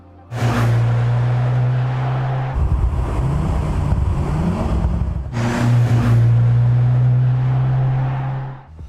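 A modern Mercedes-AMG C63 with a turbocharged four-cylinder engine runs loud and close, holding a steady drone through most of the stretch with a rising, shifting rev in the middle before settling back into the steady tone.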